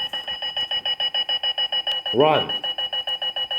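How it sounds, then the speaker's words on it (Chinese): A rolling alarm clock that runs off a bedside table rings with rapid, evenly spaced electronic beeps at about six per second, loud and close, and a voice briefly calls out over it partway through. "闹钟会一直朝前跑，请放在床头柜朝外的角落里"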